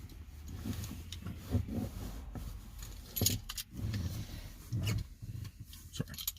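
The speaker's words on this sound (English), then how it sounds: "I'm gonna need my keys." A set of car keys jangles and clinks up close in irregular bursts, picked up and shaken while being sorted, with no talking.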